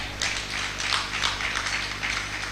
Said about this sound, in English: Please can we recognize him with a clap?